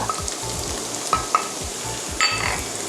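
Imitation crab sticks are stir-fried in a pan for udon, giving a steady close sizzle broken by several sharp clinks and scrapes of a utensil, with no voices.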